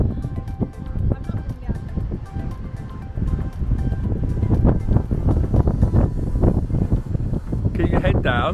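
Wind blowing outdoors on South Africa's west coast, a steady loud rush buffeting the microphone throughout, with people talking beneath the gusty roar.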